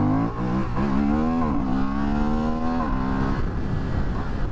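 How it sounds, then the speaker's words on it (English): A Honda Hornet CB750 with an SC Project exhaust accelerating hard into a wheelie, its engine note climbing steadily and loud and close, with a brief dip at a gear change. "I wanted to do an acceleration test, and the next thing I saw this front just come up."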